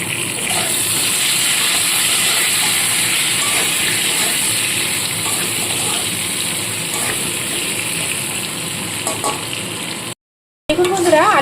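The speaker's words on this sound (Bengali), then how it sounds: "সামান্য হলুদ আর নুন দিয়ে আলুগুলোকে ভেজে তুলে নেব" Potato pieces frying in oil with salt and turmeric, a loud, close, continuous sizzle that holds steady, then briefly cuts out before resuming with a voice speaking over it.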